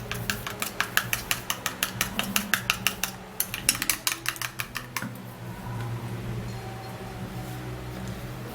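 Egg whites are whisked briskly in a bowl, the utensil clicking against the sides in a fast, even rhythm for about five seconds before giving way to softer, continuous mixing.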